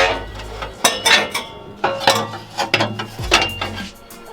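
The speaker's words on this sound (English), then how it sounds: "So we have our center block stacked up here with our jack" A jack raises a Toyota 4Runner frame off the axle during an exhaust installation. It makes repeated close metallic ratcheting clicks in short rhythmic bursts.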